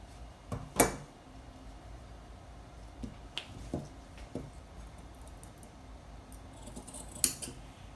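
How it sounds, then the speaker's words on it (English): Scissors cut the armhole from a dress front piece in a few sharp, close snips spread out over quiet room tone, with soft rustles of fabric between them. "I'm gonna do, just not to make any mistake, is cut out my armhole."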